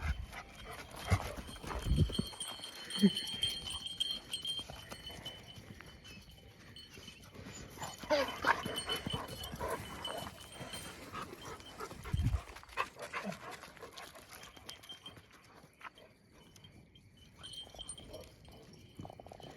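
Dogs pant and whimper close by, amid rustling, shuffling and scattered thumps, with no talking.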